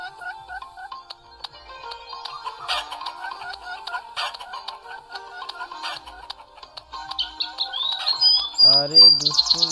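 Cartoon chicken clucks and squawks in the Meena video game, a run of short clucks and chirps over game music, growing louder near the end, with a person talking over it.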